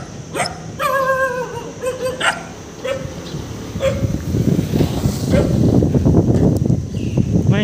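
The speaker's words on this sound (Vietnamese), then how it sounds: "Chó lúc này nó đi gặp người ngoài đường nên nó sủa" A dog barks at people on a street near the Cua Can market in Phu Quoc, several sharp close barks and yips followed by excited whimpering and a busy noisy background.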